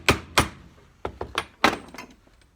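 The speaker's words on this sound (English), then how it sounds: "job is to get this seal into that groove. Just use this socket to drive him home." A gearbox seal on a 1973 Foden S80 lorry is driven into its groove with a socket: a series of about six close, sharp metallic taps and thumps at irregular intervals, no talking.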